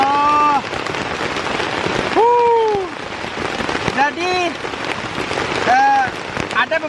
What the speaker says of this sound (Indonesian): ada beberapa orang yang emang nggak suka dengan hujan, soalnya itu dapat membuat pekerjaannya itu terhambat